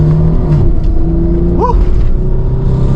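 A Nissan 300ZX Z32 swings through a U-turn, its engine rumbling loud and close with a short rising rev partway through over a steady low drone.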